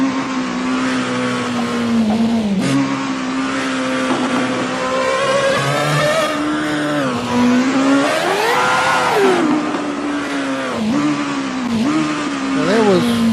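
A turbocharged car engine revs hard and loud, its pitch climbing, dropping and surging again in a continuous, close roar that runs the whole time with only brief dips between pulls.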